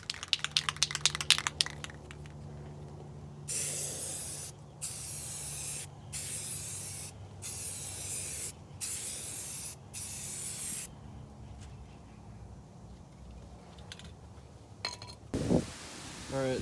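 Bursts of a spray gun coating the interior of a Jeep TJ, about six close, loud hissing blasts separated by short pauses, with some clatter beforehand.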